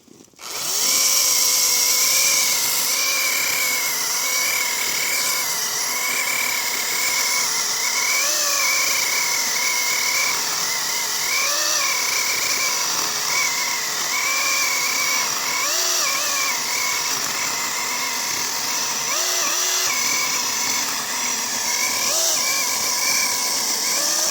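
Zegor CSPP-21BL cordless battery chainsaw cutting wood, a loud continuous high-pitched motor whine that wavers slightly under load for the whole stretch, with no talking.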